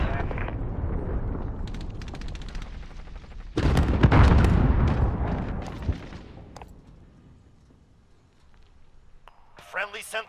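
Heavy, rumbling cruise missile explosion in Call of Duty: Modern Warfare, a deep sustained blast in the middle that fades slowly over a steady roar of battle, with faint voices near the end.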